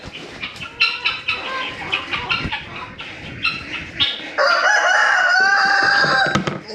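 Chickens and guinea fowl clucking in a busy cluster at evening feeding, then a loud rooster crow rings out close by, with more clucking around it.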